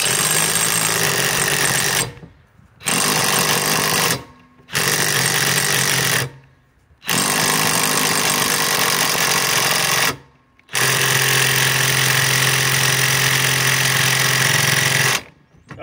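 Harbor Freight Hercules ultra torque Gen2 or DeWalt XR DCF891 impact wrench on a Flexvolt battery tightening a bolt, five loud sustained hammering bursts separated by short pauses, close up.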